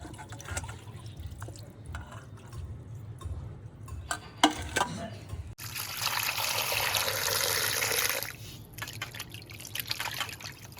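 Small fish being washed by hand in a bowl of water: scattered drips and light splashes, then a few seconds of louder rushing and sloshing water, then quieter trickling, all close up.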